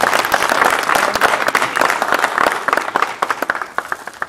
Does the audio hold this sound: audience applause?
yes